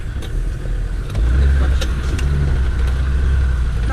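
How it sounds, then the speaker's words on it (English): An off-road 4x4 on a muddy riverside course revs hard as it accelerates, the engine growl rising sharply and holding loud, close, with occasional knocks and clunks and no speech. "Floor it, Alex."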